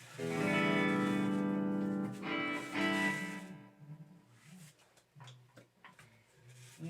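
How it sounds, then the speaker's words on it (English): An electric guitar with single-coil pickups plays through a distortion pedal over an Xvive U2 wireless system, ringing sustained distorted chords that fade, then sparse clipped picked notes and ticks. "now we are going to expect a bit of noise coming out of a distortion pedal, especially with single coils"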